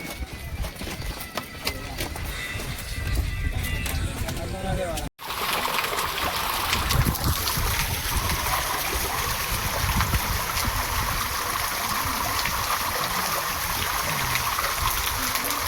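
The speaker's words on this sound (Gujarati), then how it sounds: "અને જો મોટું ઝરણું આવ્યું છે" A large mountain stream rushes steadily on a forest path, a loud, continuous broadband roar of flowing water. Voices talk over it in the first few seconds, and the water carries on alone after a brief dropout.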